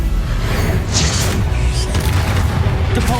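Casting Accio in Hogwarts Legacy gives a loud, dense rumbling blast with sharp whooshing flares over it, close and continuous for a few seconds amid busy combat effects.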